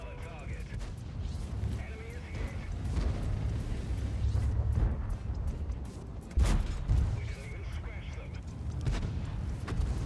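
Tank and artillery gunfire in the World of Tanks video game, heavy booms and rumbling blasts rolling through a dense battle soundscape, with one sharper loud shot near the middle, while people talk over the action.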